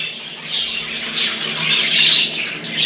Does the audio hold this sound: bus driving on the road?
no